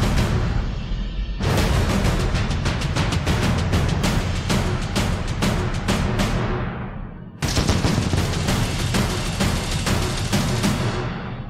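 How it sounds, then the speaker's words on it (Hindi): Women in elite commando training fire guns in rapid sustained automatic bursts, loud and close, one long volley followed by a short pause and a second burst. "आज गन फायर करने का मुजाहरा भी इनसे देखते हैं कि ये कैसे गन फायर करती हैं"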